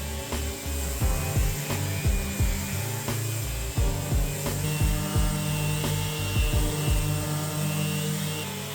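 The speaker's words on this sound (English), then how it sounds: "I simply hit everything with 80 grit sandpaper just to remove any excess glue" Power sander working over glued-up wooden furniture panels with 80 grit sandpaper, a steady loud motor drone with repeated rhythmic scraping passes as the sander is pushed back and forth across the wood.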